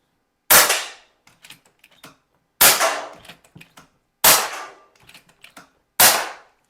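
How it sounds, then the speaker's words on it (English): A shotgun fires slugs fed from a Stud Magloader magazine: four loud, sharp shots about every one and a half seconds, each followed by brief mechanical clacks of the action cycling. "I want you to see just how fast this magazine will index as I fire"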